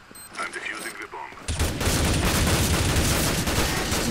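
Gunfire in Counter-Strike: Global Offensive, a few scattered shots and clicks at first, then a sudden loud, dense burst of rapid automatic fire that keeps going to the end.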